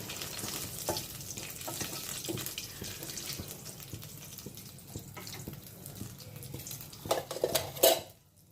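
A dried red chilli frying in hot oil for a fish curry with capsicum, heard as a faint steady hiss with light clinks of utensils, followed by a louder stirring clatter near the end.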